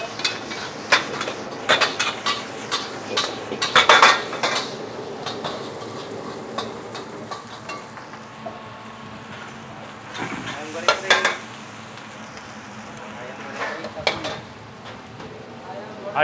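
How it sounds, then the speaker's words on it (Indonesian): Fried rice with a generous amount of soy sauce being stir-fried in a wok in a busy restaurant kitchen, with repeated metal spatula scrapes and clanks over a steady sizzle, in irregular bursts. "kalau kecapnya agak banyak ya harus dibakar dulu nasinya sedikit"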